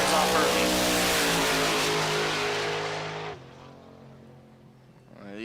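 Drag racing car launching at a big-money drag racing event, a loud roaring engine with rising harmonics that drops away after about three seconds, under an announcer's voice.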